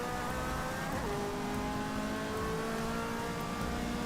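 A Holden race car engine in Forza Motorsport 6 drones steadily at high revs, pitch dipping once as it shifts and then climbing, loud and continuous with no talk.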